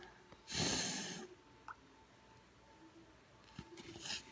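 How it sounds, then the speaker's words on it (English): A person blowing their nose in two forceful, close bursts separated by quiet breathing and faint small noises. "I'm just blowing my nose right now"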